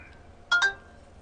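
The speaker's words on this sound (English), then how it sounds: "that was my phone. Sorry about that." A phone gives a short two-note notification chime, brief and moderately loud against a quiet room, during a podcast conversation.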